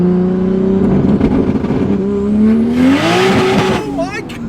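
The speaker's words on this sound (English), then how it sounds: "Second gear pull." A heavily built 2JZ-engined car pulls hard in second gear. Its engine note rises loudly and steadily, then tires spin and squeal near the end, with voices over it.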